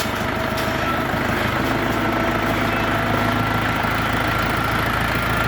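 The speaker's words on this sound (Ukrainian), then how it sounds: "Трактор 4-циліндровий, дизельний водяного охолодження." A Jinma 404 mini tractor's four-cylinder, water-cooled diesel engine idles steadily nearby, a constant loud rumbling drone without change in pace, no voices.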